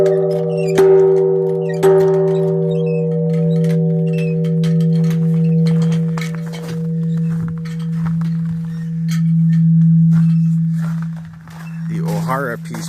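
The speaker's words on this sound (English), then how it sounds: "Here is the Peace Bell, which you can come up here and make a nice gonging sound with." The large Ohara Peace Bell at Enger Park gives a deep, sustained hum that rings on steadily, with lighter metallic clinks and taps over it and a brief wavering tone near the end.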